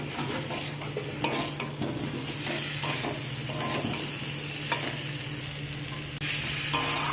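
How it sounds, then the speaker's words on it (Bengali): Fried potatoes and spices are stirred together in a pan over the heat, a continuous close sizzle with steady scraping strokes of the spoon, which grows slightly louder near the end. "এই সব কিছুতে একসাথে ভালো করে মিক্স করে নেব।"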